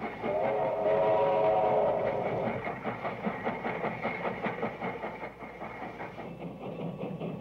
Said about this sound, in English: this perky museum piece with its 6 churning driving wheels was new in 1890